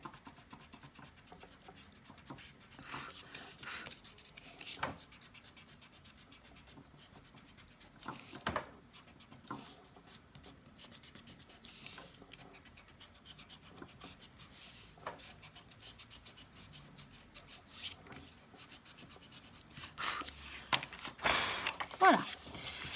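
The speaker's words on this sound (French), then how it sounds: "Donc je viens gommer." An eraser rubs across the front of a handmade shaker card in soft, quiet scratchy strokes that come in short bursts and grow busier toward the end, close by with faint background noise.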